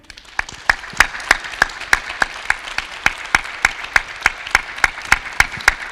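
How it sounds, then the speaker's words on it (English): At a conference session during Urban Mobility Days 2022, sparse applause rises to a regular rhythmic clapping, loud sharp claps spaced about evenly in steady succession. "So maybe we can give a round of applause to them."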